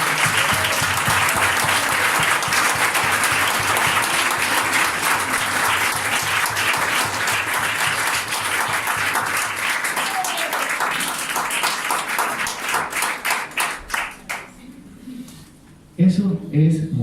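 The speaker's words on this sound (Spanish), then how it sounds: "Si van a aplaudir al Señor, aplaudamos todos." Church congregation at a Saturday service applauding together, a long, loud stretch of rhythmic group clapping that gradually thins into scattered claps and fades, followed by a voice near the end.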